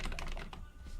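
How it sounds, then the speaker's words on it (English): Rapid typing on a Nomad E1 mechanical keyboard fitted with stock Gateron switches, a dense run of close, crisp keystrokes with no voices. "Let me just open a new tab and just start typing."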